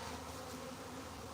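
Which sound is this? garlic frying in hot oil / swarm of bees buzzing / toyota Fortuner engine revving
swarm of bees buzzing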